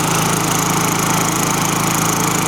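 An old green push lawn mower engine runs at a steady idle after warming up, a loud continuous droning buzz with even rhythm, close by and alone with no talk.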